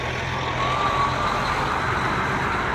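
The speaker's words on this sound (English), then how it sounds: "Sorry, another truck." A truck rumbles steadily nearby while a faint, thin beeping tone from its reversing alarm rises above the broadband road noise, with no speech.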